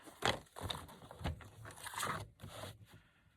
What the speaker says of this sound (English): I'm going to line it up and trace it and cut it.